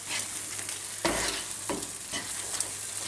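A creamy nettle sauce with Parmigiano cheese being stirred in a pan over heat, a soft bubbling sizzle with a few scraping strokes of the spoon, close but quiet, without talk.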